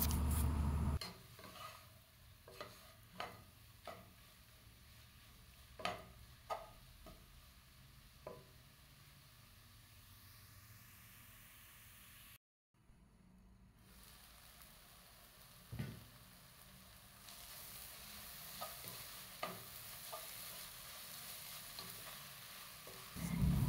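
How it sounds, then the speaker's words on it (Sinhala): Sliced mushrooms, Sri Lankan tempered style, cook under a lid in a pan with a soft steady sizzle and occasional faint clinks, then a brief silence before the frying resumes louder. "මම දැන් පියනකින් වහලා විනාඩි 5ක් විතර මේ හතු එක උයා ගන්නවා."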